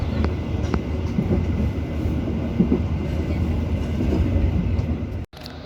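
Tawang Alun passenger train rolling on rails between Jember and Malang, a continuous close rumble with rhythmic wheel clatter, heard from inside the carriage, briefly cutting out near the end.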